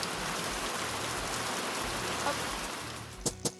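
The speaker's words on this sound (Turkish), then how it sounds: "Sonra yağmur yağdırsam." Steady rain falling in the stickman drawing game Draw a Stickman Epic 2, an even hiss of rainfall throughout, followed by a few sharp clicks near the end.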